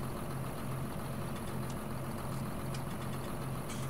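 John Deere 4755 tractor engine idling in a farming video game, a steady low throbbing drone at constant moderate level with no changes in rhythm, heard alone.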